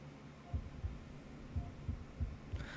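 Heartbeat pulses in Honkai: Star Rail, a soft, muffled low thumping in paired beats repeating steadily over a faint hum, with a brief brighter chime near the end.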